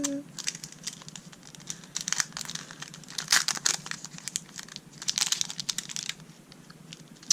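A Pokemon card pack is torn open by hand, with crinkling and ripping foil wrapper in irregular bursts that are close and fairly quiet.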